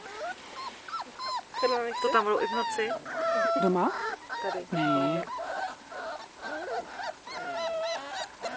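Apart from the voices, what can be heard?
dog whimpering and barking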